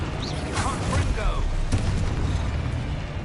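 A Confringo spell detonates in a Harry Potter video game, a booming explosive burst with crackling debris and whooshing magical effects, with a voice speaking over it.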